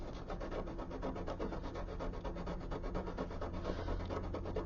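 Steady, close rubbing and scraping of sandpaper on the plastic hull of a 1/200 scale USS Curtis Wilbur model ship, continuous and even with no talking.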